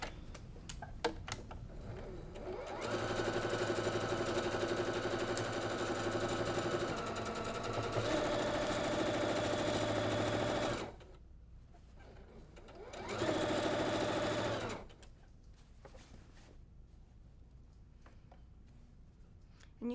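A sewing machine stitches quilt sashing laid face down in two runs: a long, steady whirring burst, a short pause, then a briefer burst, close and clear with no talking.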